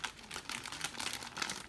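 Plastic packaging around an anime figure crinkles and crackles continuously at close range, a soft, busy rustle without talk.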